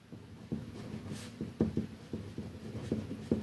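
Pen writing on paper while working a maths exam question, a quiet series of short scratchy strokes and taps in an uneven rhythm, close and alone.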